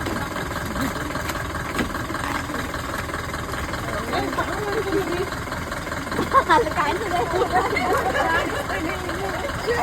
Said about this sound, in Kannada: ಬೋಟ್ ಬಂದಿದೆ ನಮಗೋಸ್ಕರ